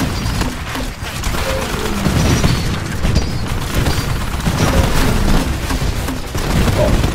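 Turret gunfire in the video game Titanfall, Frontier Defense co-op mode: dense, continuous bursts of shots and booms layered with explosions and game noise, loud throughout.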